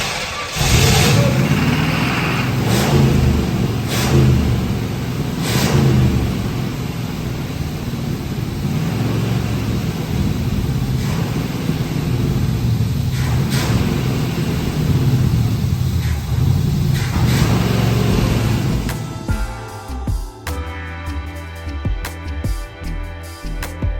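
A car engine, back running after repair work, runs steadily and loud for about eighteen seconds with a few sharp revs, then cuts to quieter, choppier sound near the end.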